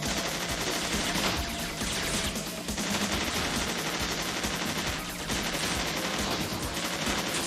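Rapid machine gun fire in the video game Bot Vice, a dense continuous stream of gunshots that fills the whole stretch at steady loudness, with brief dips between bursts.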